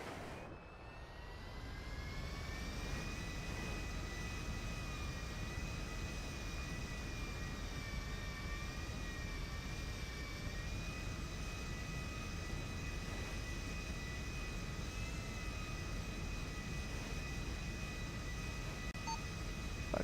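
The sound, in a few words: aircraft taxiing after landing, from video game (GTA roleplay)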